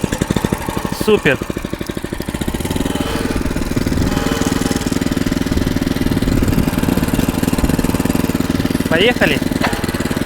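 A motor cultivator's engine starts on the first try and keeps running steadily with a loud, even mid-pitched chugging, while someone speaks briefly over it.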